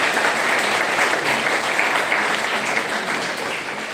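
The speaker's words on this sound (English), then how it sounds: "So one round of applause for all the teachers" Sustained, dense applause from an audience at a school debate competition, honouring teachers, steady and loud throughout with no breaks.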